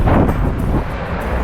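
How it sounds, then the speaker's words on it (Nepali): A strong, cold outdoor wind blasts across the microphone as a loud, continuous roaring rumble with no pause. "एकदम धेरै हावा चिसो भन्दा चिसो चलिरहेको छ हावा चाहिँ बवाल तरिकाले"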